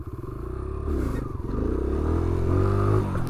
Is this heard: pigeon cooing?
no